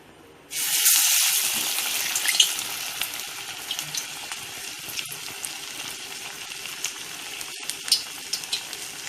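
Banana flower vadas fry in hot oil with a steady, bright sizzle that bursts in loudly near the start and keeps crackling close by, with small spits and pops scattered through.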